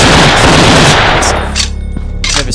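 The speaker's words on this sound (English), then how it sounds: "the gunshots are actually really loud." Gunshots ring out in the zombie shooter video game Secret Experiments as a loud, rapid volley of revolver and M16 fire that fades into quieter, scattered shots.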